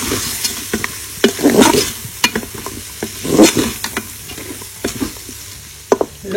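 Ingredients for chicken kabsa, including dried lemon, cinnamon and bay leaf, sizzle in a Cookeo multicooker and are stirred with a utensil, loud close frying hiss broken by repeated scraping stirs, with no voices.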